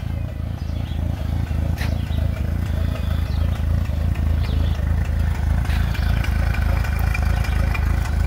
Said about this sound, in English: that Honda four-stroke in the water, you can barely hear it run.